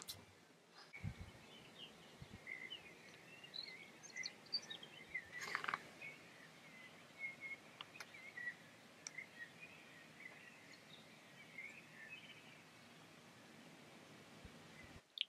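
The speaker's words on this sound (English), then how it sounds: "realised how loud the birds are. I don't know if you can hear them." Birds singing outdoors, faint scattered chirps and tweets heard through a window over low background noise, with one brief louder knock partway through.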